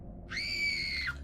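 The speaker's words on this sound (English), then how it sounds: "Screams." A single high, sustained scream in the chaos of a violent attack, rising sharply and held for about a second before cutting off, over low background noise.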